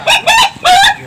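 A hybrid rooster, cemani crossed with green junglefowl, calls in three short, loud, close bursts within about a second.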